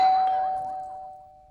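A doorbell rings once: a single clear chime that starts bright and fades slowly over about a second and a half, heard alone.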